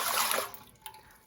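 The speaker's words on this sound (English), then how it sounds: "To my stock pot, I'm gonna add 5 cups of apple juice," Apple juice is poured into a stock pot as a short splashing rush of liquid that fades quickly into a few faint drips, near and moderately quiet.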